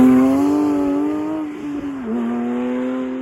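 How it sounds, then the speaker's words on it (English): The 4-litre naturally aspirated flat-six of a Porsche 992 GT3 Touring sounds a loud, high-pitched engine tone that dips briefly at about the middle before steadying again, with no speech. "the heart of this car is the 4-litre flat 6 naturally aspirated engine"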